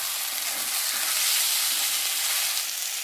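Tomatoes tossed into hot ginger-garlic paste for a rohu fish kalia fill the clip with a loud, steady, dense sizzle of frying that holds without a break and has no voices over it.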